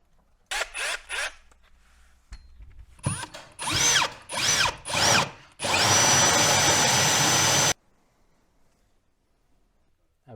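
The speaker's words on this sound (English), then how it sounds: "I need to drill a hole through the floor" A power drill bores a hole through a floor in short revving bursts, then one long continuous run that stops abruptly, followed by quiet; it is close and loud, with no talking.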